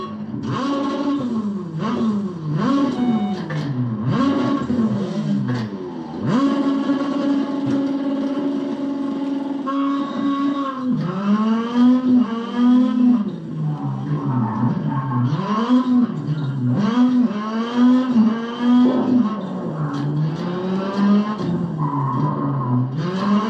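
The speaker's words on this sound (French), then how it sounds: "puis juste on écoute le bruit du moteur" A rally car engine in the video game WRC Generations revs up and down repeatedly, shifting through gears with rising and falling whine, loud and continuous without any talking.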